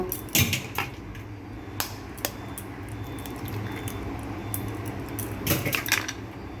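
Two eggs cracked into a bowl of finely chopped ingredients for egg toast, heard as a few sharp taps and clicks of shell on the bowl's rim with a wet squish, close and fairly quiet in a kitchen with no talking.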